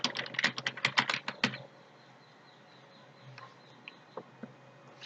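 A computer keyboard is typed on in a quick burst of close, crisp keystrokes for over a second, followed by quiet room tone with a few isolated faint clicks.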